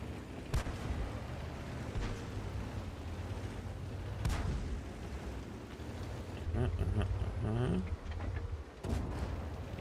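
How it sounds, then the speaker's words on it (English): Artillery fire in the tank game World of Tanks, a few booming distant blasts spaced through a busy battle soundscape, with rumbling engine noise and mechanical clatter underneath. "That's the artillery."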